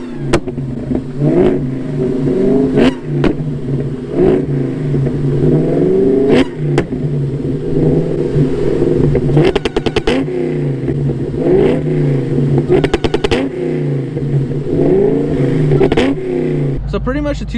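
A Cobra car's engine revs repeatedly on a two-step launch limiter, with sharp crackling pops and bursts recurring throughout, loud and close, while a person talks over it.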